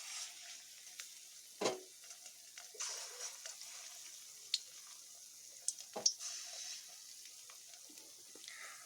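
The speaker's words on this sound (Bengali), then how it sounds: "আমি কিন্তু এগুলোকে হিটটা কমিয়েই লো হিটেই ভেজে নিচ্ছি।" Jackfruit pieces fry gently in oil over low heat, giving a faint, steady sizzle broken by a few soft clinks and scrapes, with no voices.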